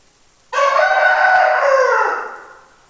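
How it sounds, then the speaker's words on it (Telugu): A domestic hen gives one loud, drawn-out call close by, a strained harmonic cry lasting about one and a half seconds before it fades away. "మా ఇంటి కోడి ఫ్రెండ్స్, పుంజ కోడి కాదు"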